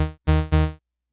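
Synth bass in Ableton Live, a sawtooth oscillator pitched down 12 semitones with a sine sub layered in, plays two sustained notes in a row, loud and bright, then stops into silence.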